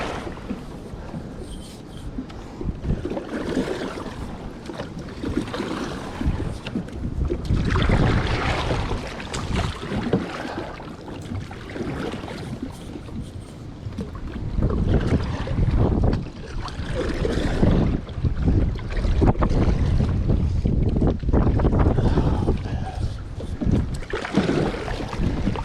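Strong, gusty wind buffets a small fishing boat on a lake during a cold-water bass outing, roaring and rumbling across the microphone in uneven surges that grow louder in the second half.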